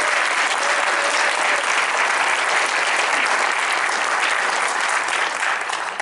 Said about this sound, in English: Let's have one more round of applause for our inductees.